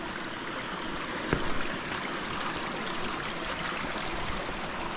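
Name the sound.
stream of water at a trail crossing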